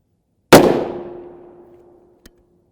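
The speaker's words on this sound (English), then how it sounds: "This was M855A1 shot number 1, and then number 2." A single loud rifle shot of an M855A1 round striking a Hesco 3810 armor plate, a sharp broadband crack with a long ringing decay, then a faint short tick near the end.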